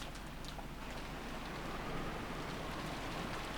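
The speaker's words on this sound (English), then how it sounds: "What is this, rain?" Steady rainfall from the Umineko visual novel plays as a dense, even hiss with no breaks, soft and continuous throughout.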